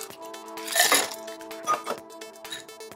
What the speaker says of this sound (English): So first, you're gonna fill your glass with ice.